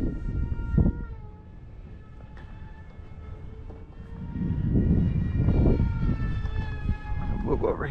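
A 3D-printed RC F-35C model jet passes low and fast with a high, whining ducted-fan tone that slides downward as it goes by, mixed with gusty wind roar on a windy field.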